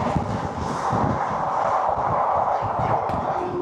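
Sealdah–Ajmer Express (12988) travelling at about 130 km/h, heard as a steady loud rumble with rhythmic wheel clatter and rushing wind throughout.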